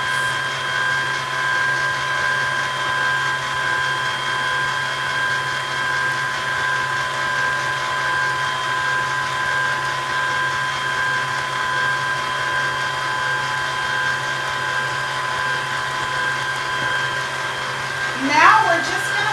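An electric mixer steadily whirs as it blends doughnut muffin batter, a constant motor drone throughout with a brief clatter near the end.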